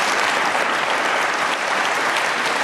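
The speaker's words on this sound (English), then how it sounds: "Clap if you agree with that." Audience at a live political panel event applauds steadily and loudly for the whole stretch, a dense wash of clapping from a large crowd with no talk over it.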